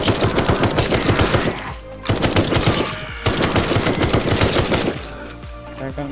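Bursts of rapid automatic gunfire in the zombie survival game Night of the Dead. Three long, loud, evenly paced volleys are split by short pauses, and a quieter stretch closes the run.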